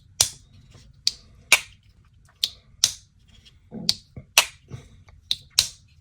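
Sharp clicks from a Reel Steel Barl slip joint knife as its blade is snapped open and shut, roughly a dozen crisp close-up snaps in an uneven rhythm over near silence.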